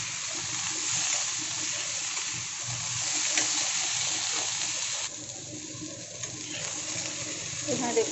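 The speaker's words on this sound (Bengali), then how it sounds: "আলু ফুলকপিটাকে বেশ ভালো করে ভেজে নেব পেঁয়াজের সাথে।" Potato and cauliflower pieces frying with onion in a pan give off a steady, close sizzle that runs the whole time with a slight dip midway, under faint background noise and no talk.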